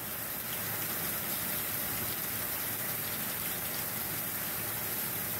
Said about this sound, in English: Winter's here in all its glory, and it's absolutely pissing down.